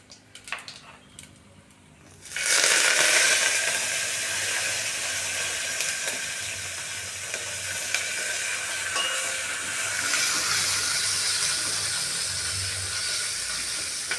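Cumin, asafoetida and curry leaves hitting hot oil set off a loud, steady sizzle that erupts suddenly after a short quiet stretch and keeps spitting close up without a break.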